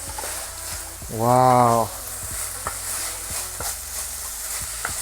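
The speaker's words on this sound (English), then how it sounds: "And we'll stir fry just for a few more minutes." Garlic scapes stir-fry in a hot pan, giving a steady broadband sizzle with occasional scraping clicks from stirring; a short exclaimed voice briefly rises over the frying early on.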